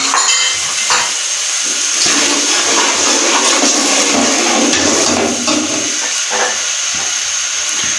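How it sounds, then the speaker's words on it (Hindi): Tomato paste fries in a hot pan for a Kashmiri lobia masala, giving a loud, close, continuous sizzle and bubbling with a few clinks of utensils and no voices. "अभी हम इसमें टमाटर का पेस्ट डालेंगे, इसको अच्छी तरह से 2 से 3 मिनट के लिए हम भूनेंगे।"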